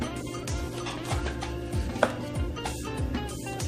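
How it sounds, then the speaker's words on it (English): A kitchen knife cuts around the core of a pepper on a cutting board, giving soft, repeated slicing taps in an irregular rhythm with faint background hum. "I'm just going to run my knife down the side of the core of the pepper"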